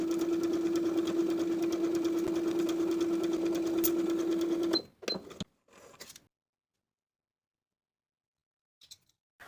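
A sewing machine runs steadily while stitching darts on a wrap skirt, a close, even motor whir for about five seconds before stopping, followed by a few brief clicks and handling noises, then near silence.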